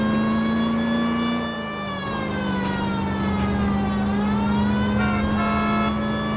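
A police car siren wails in the L.A. Noire video game, a loud steady tone with harmonics that dips and rises, over a running car engine.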